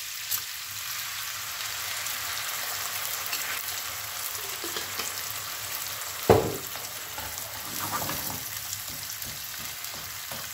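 Tomato sizzling in a hot pan for fusilli alla calabrese with chili and pancetta, a continuous frying hiss with one sharp clatter partway through, then steady sizzle.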